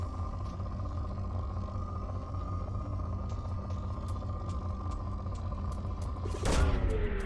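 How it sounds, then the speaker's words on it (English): A probe launching in the Mass Effect 2 video game: a constant low rumbling drone with faint ticks, ending in a sudden loud whooshing burst of the launch. "Launching probe."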